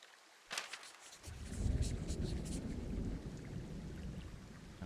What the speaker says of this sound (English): is that real thunder in my area?